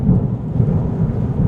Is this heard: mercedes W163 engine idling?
no